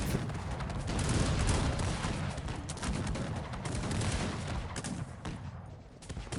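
Cossacks 3 battle din: a dense, continuous crackle of massed musket volleys mixed with booming cannon fire, loud and unrelenting throughout, easing slightly near the end.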